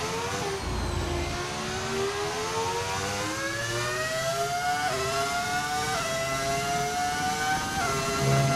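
Modded F1 25 race car engine, a loud high-pitched whine that climbs steadily through the revs with quick drops at gear shifts, continuous and near throughout.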